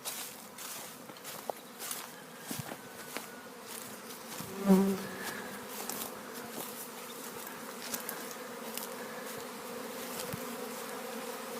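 Honeybees buzz around the hives of a calm apiary, making a steady drone with individual bees flying past close by now and then, plus a few soft footsteps or handling sounds.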